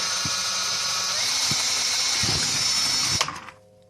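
A power drill bores straight through the curved plastic shell of a game controller being modified with adjustable triggers, a loud steady high whine running continuously for about three seconds before cutting off abruptly.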